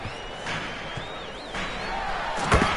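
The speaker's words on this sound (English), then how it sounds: "Edwards slams it in." Edwards slams a basketball dunk during a game: one hard thud near the end, preceded by a muffled arena crowd and ambient court noise.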